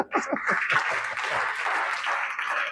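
A church congregation at a Sunday service breaks into applause, a dense steady patter of many hands close by, with voices mixed in near the start.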